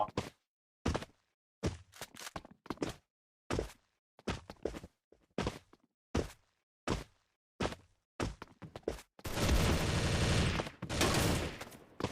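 M4A1-Silver rifle fire in a video game comes in short, sharp bursts separated by silences, then ends in one long, loud, sustained volley.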